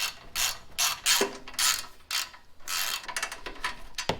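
Bolts are driven back into the bottom of a snowblower carburetor cover, heard as close, intermittent bursts of ratcheting clicks with short pauses between turns.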